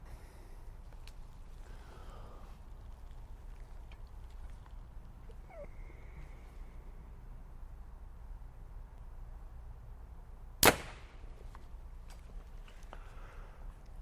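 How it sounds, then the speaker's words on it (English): An arrow shot from a tuned hunting bow through paper during elk hunt preparation gives one sharp, loud crack near the end, standing alone against a quiet outdoor background. "So I'm just going to shoot an arrow here, see what it tells me."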